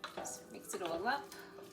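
A spoon stirs paella ingredients into rice in a pan, giving brief soft scrapes and clinks close by, partly under a quiet voice.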